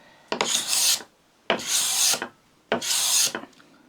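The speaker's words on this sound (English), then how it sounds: "Just need to make sure that the scraper is pushed right in, and you can hear that sound hopefully." A hand scraper pushed across a wood surface, three rasping strokes, each about three quarters of a second, loud and close with short pauses between them.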